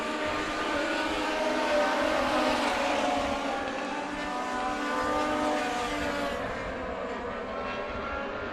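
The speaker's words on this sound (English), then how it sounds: "And the 2 of Reed trying to get that momentum going with these legend cars." Legend race cars roar past steadily on the Tucson Speedway track, engines droning in a continuous loud blur with no voices.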